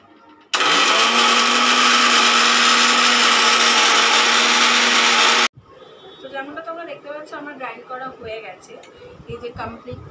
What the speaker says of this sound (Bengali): তো এবার আমি এটা মিক্সিতে গ্রাইন্ড করে নেবো।